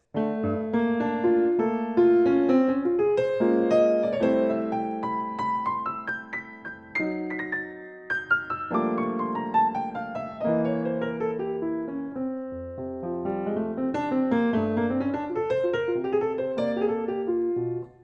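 Solo piano playing flowing, jazzy runs and chords, with rising and falling lines and a brief pause midway, no talking.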